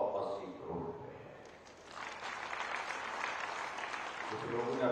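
A man addresses a rally crowd at a Himachal chief minister's event in Siddhpur, Dharampur, then a broad wash of audience clapping swells and holds for a couple of seconds before his voice returns over it.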